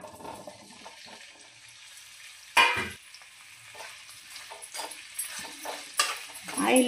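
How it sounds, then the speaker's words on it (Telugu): Bitter gourd pieces drop into hot oil in a kadai and burst into a sudden loud sizzle. The frying keeps crackling and hissing in bursts as the pieces are stirred. "ఆయిల్ వేడెక్కింది. ఈ ముక్కలు వేసేసుకుందాం."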